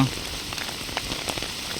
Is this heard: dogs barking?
no